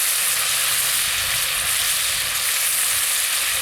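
Venison steak with bits of garlic frying steadily in a pan, a continuous loud, close sizzle with no talk over it.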